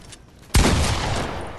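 A single sudden, loud burst of video game gunfire cracks out of a quiet background, then leaves a dense, roaring tail of noise that slowly fades over the following second.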